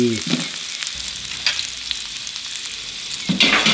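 Garlic, ginger, lemongrass and coriander root are stir-fried over low heat in shallot-frying oil for a Betong chicken soup. The sizzle is close and continuous, with spatula scrapes, and no one speaks.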